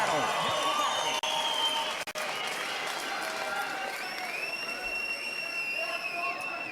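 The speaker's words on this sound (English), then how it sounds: "I think both of these fighters deserve another huge round of applause" Loud crowd noise after a boxing match between Jye Chin and Jude Grant, with applause, cheering and shouting filling the arena and a ringing tone running over the roar.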